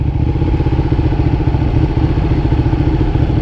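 A Suzuki GSXR-1000 motorcycle engine runs steadily and loud nearby, a throbbing, clattering mid-pitched drone that stays even throughout with no voices.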